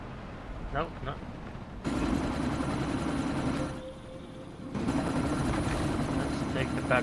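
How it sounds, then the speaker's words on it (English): A helicopter in the video game Deus Ex Mankind Divided flies nearby, a steady broadband rotor roar that dips briefly midway and returns, with short bursts of speech over it at the start and end. "chopper's been grounded"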